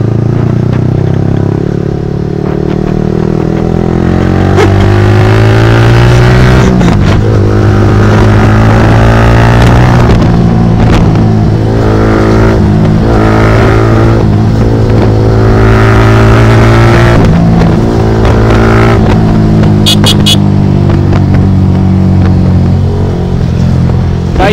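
Engines of vehicles in a street race rev and roar continuously, loud and close, with rattling clatter and shifting pitch throughout.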